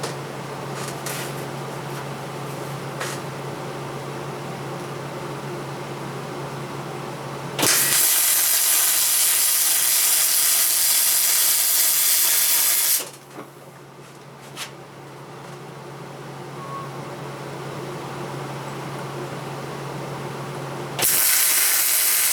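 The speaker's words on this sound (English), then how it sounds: "We'll start welding this up here." Welding on a repair to a Wieland intake manifold: steady, close broadband hissing runs for several seconds, stops, then starts again, with quieter workshop noise in the gaps and no talking.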